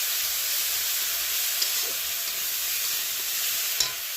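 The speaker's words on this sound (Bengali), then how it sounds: "এবার দিয়ে দেবো ধনে গুঁড়ো, দিয়ে আবারও একটু ভালো করে ভেজে নেব।" Coriander powder frying in oil with a ginger-garlic masala: a steady, soft sizzle and hiss from the pan, with a couple of faint scraping stirs and no talk.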